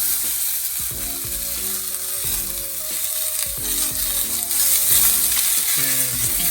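Onions, garlic and ginger fry in a pan for an Indian curry. A loud, close sizzle runs throughout, with repeated squeaky, tonal scrapes as the mix is stirred, and no talking.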